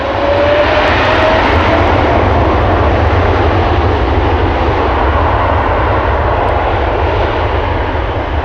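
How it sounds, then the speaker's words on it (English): KLM Boeing 777 jet departing Amsterdam Schiphol Airport, a loud, steady engine roar holding constant throughout without any voices. "And we have the 777 to Rio de Janeiro right there already. KLM 100 years is going to move."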